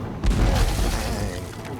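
Cannons firing at castle walls in Age of Wonders III, a single deep booming blast that swells in after a brief pause and rolls on as a loud low rumble.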